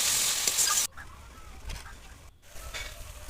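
Spice paste of chilli and turmeric frying in a pan, a loud sizzle that suddenly drops to softer crackling and scraping as it is stirred, with brief pauses.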